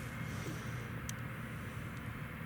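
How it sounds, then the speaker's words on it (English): An Emirates airliner taxiing at Newcastle Airport, a steady distant low jet engine rumble with a faint high whine, heard alone. "the Emirates has started taxiing again"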